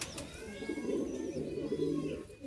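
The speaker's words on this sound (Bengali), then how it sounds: "পায়রাটা এত অ্যাক্টিভ, হাতেই ডাকছে।" A single high-flying pigeon coos close up while held in the hand, a low, throaty rolling call sustained for a couple of seconds.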